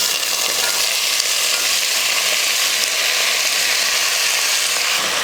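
Potato pieces sizzle in a pan of sautéed garlic for a potato fry, a loud steady crackling hiss with light stirring scrapes, close up and without voices.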